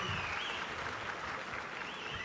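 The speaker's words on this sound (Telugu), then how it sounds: "గట్టిగా చప్పట్లు కొట్టి అభినందించండి." A crowd applauds at a public political meeting in Chirala, giving steady, dense clapping throughout, with a loud, continuous, distant texture and no clear voices.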